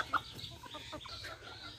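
A flock of farm-raised and native chickens clucks softly nearby in a poultry yard, with a sharp peep near the start and scattered low clucks that follow.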